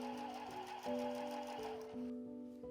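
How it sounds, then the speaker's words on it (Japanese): A sewing machine stitches along the edge of quilt batting for a shoulder bag, running in a few close, quick bursts with brief pauses between them, then stopping near the end. "キルト綿の端を縫います。"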